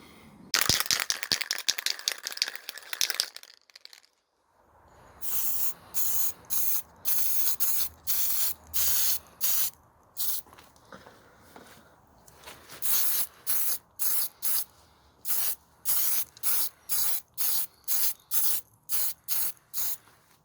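A spray paint can hisses in short bursts while priming miniatures, first a brief rattle of the can being shaken, then a pause, then a steady series of roughly one-second sprays separated by short gaps.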